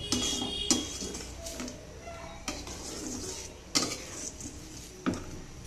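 Ground fried coconut paste being stirred into a prawn and hilsa curry in a metal pot, a spoon scraping and clinking against the pot several times at an uneven pace, with a soft sizzle underneath.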